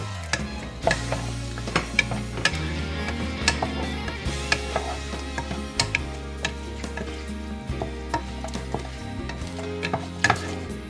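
Spices, bay leaf and kasuri methi frying in a pan with cloves and cinnamon: a steady sizzle with irregular crackles and pops, heard under background music.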